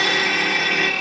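A wood router cutting inside female threads with an EZ Threading Jig makes a loud, steady high-pitched whine that stays close and unbroken throughout.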